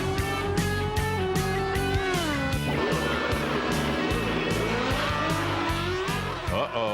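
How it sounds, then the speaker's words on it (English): Powerful drag racing motorcycles roar continuously, engine tone rising and shifting as they launch and accelerate, loud and close with a dense, sustained high-revving drone throughout. "These monster motorcycles are drag racers too."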